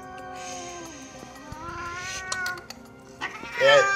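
A feverish cat yowls in pain while a vet deeply disinfects its wound, drawn-out wavering meows rising into a sharp, louder caterwaul near the end, close by, with faint handling noises.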